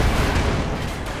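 Tank cannon fire from an M4C Sherman striking a Panzer IV in a video game, a dense, loud rumbling blast that sustains for over a second without any voice.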